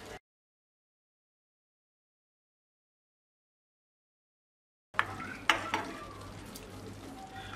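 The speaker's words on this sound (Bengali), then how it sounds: "খুব ভালোভাবে মিশিয়ে দিচ্ছি আমি" White mustard paste being stirred into pineapple hilsa fish curry in a pan: after a long silent gap, spoon clanks and scrapes against the pot over a low bubbling sizzle, close and moderately loud.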